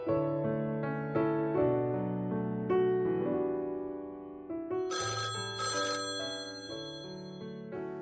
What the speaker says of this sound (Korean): 전화벨 소리에 수화기를 드니 미희였다.